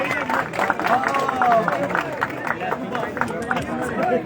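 Crowd applause and chatter fill an outdoor mushaira poetry gathering in Shalimar Garden, Lahore, as a poet is welcomed to the stage, with clapping mixed into steady crowd babble.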